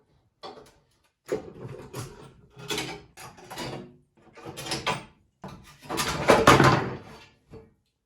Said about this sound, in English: I'm gonna pull the clamps off and see if the warp is any better.